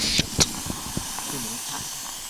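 A self-contained camping stove gives off a steady, even hiss as it heats water for tea outdoors in the Drakensberg mountains, with a couple of sharp clicks early on and faint voices in the background.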